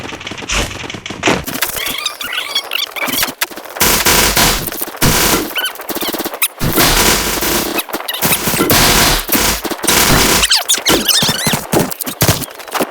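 M4A1 rifle gunfire from a video game erupts in long, dense automatic bursts. The shots are loud and close, broken by brief gaps, with squeaky, crackling game effects layered through the barrage.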